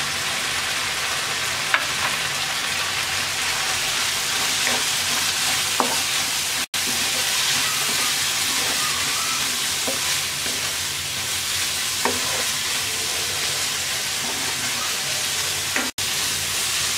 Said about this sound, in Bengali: এবার দিয়ে দিচ্ছি শুটকি।